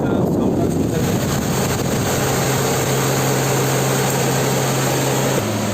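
A Blue Star DA35LMA 35-litre desert air cooler runs on its high fan setting, giving a loud, steady whooshing rush of air with a constant low motor hum throughout.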